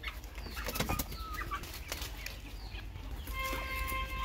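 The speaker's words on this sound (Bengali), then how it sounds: "তো হাঁস খাবারের জন্য পাগল হয়ে গেছে, দেখুন করতেছে কেমন খাবারের জন্য" A flock of farm ducks rushes for freshly mixed feed, wings flapping in scattered bursts with splashing and scrabbling, then a few high calls near the end, close and busy.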